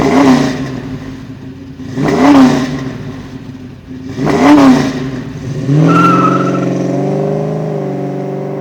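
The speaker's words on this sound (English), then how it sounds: "revving the engine lets people know that it's definitely not stock" A car engine fitted with a Flowmaster performance muffler revs sharply three times, each one a deep roaring surge, and then settles into a throaty, rumbling idle.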